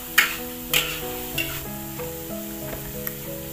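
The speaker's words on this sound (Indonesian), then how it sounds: "Nah, ini bumbunya digongso, guys. Goreng sampai agak sat." Spice paste for spicy grilled chicken stir-frying in a pan, a constant close sizzle broken by a few louder scraping stirs early on, alone with no talking, while a musical melody plays underneath.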